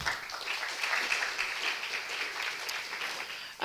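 Audience applause after a team presentation at a pediatric innovation event in Riga, a soft, fairly distant and steady patter of clapping that fades near the end.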